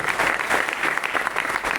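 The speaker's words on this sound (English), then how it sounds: "Please, round of applause." Audience applause for a company CEO at a corporate event, a dense crowd of clapping hands that stays steady and fairly loud throughout.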